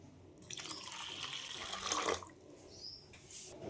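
Water poured from a glass over pani puri flour set to soak gives a steady close splashing and trickling flow for a few seconds, with a brief pause and a second softer pour.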